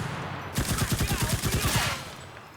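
A rapid burst of automatic gunfire from the WWII shooter game Enlisted, about a dozen evenly spaced loud shots over a second and a half, standing alone without talk.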